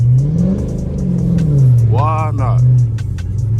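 Dodge SRT Charger engine rumbles and revs hard while sliding through a snowy intersection in a blizzard, a loud, close, steady growl that rises and falls, with voices talking over it.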